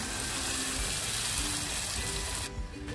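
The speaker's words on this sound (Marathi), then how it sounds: "थोडंसं पाणी टाकते" Water is poured into a pan of frying egg masala curry, giving a close, steady gushing hiss that cuts off abruptly near the end.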